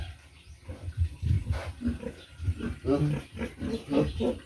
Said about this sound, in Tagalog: Yung alagang baboy, naligo na.